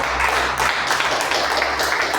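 A church congregation applauds in a sustained, dense wash of clapping that holds steady throughout, filling the room without a break.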